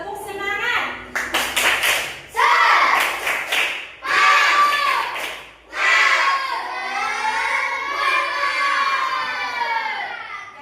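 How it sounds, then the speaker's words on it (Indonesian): Pupils in a classroom perform a rhythmic group clap, sharp bursts of clapping in patterned sets broken by brief pauses, with children's voices chanting and shouting along and continuing after the claps end. "Ayo, tepuk semangat."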